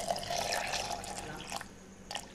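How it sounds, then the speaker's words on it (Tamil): Water poured into blended mango juice in a blender jar, a soft, steady trickle and splash that fades, with a couple of brief drips near the end, faint and alone. "இதில் நம்மளுக்கு எவ்வளோ தண்ணி வேணுமோ ஆட் பண்ணிக்கலாம்."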